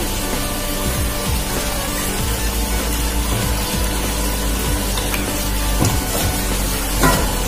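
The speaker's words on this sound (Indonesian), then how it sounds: "saksikan terus proses penggorengannya" Battered crispy chicken frying in a pan of hot oil, a steady dense sizzle with faint bubbling that holds even and close throughout, with no talking.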